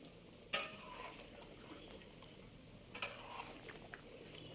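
Food being stirred slowly in a pot over medium-low heat while it comes to a boil, for boxed rice meals; faint scraping and soft sizzling with a couple of sharper clinks against the pot, quiet throughout.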